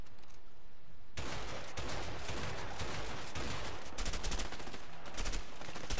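Rapid bursts of gunfire from a firefight in the video game A Way Out, dense overlapping shots that start abruptly and continue loud and close throughout.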